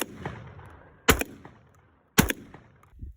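Two sharp, loud gunshots from a Turkish shotgun firing buckshot, about a second apart, each a sudden blast with a short decaying tail, and the first shot's tail fading at the start.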